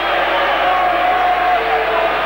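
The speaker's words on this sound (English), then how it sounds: "The crowd lets the touch judge know." A 1983 State of Origin rugby league stadium crowd roars and jeers in protest at a touch judge's call, a loud, continuous wall of voices.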